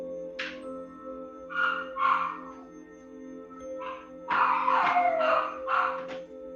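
Several dogs bark, yip and howl in irregular bursts inside a home during a live online restorative yoga session, fairly close and loud over a low steady hum.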